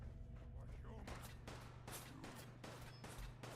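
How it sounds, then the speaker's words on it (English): Gunfire aimed at the player in Fallout 4, a series of sharp shots at irregular intervals over a low steady background hum. "Where am I getting shot at from?"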